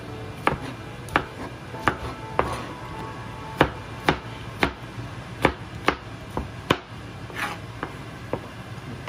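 An onion chopped with a knife on a cutting board, with a dozen or so sharp, evenly spaced thuds at a relaxed pace, close and distinct over a quiet background.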